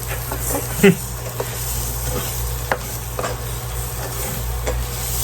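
Garlic butter steak sizzles and spits on a hot plate while being stirred and tossed, a steady close frying hiss broken by scraping clicks and a voice speaking briefly.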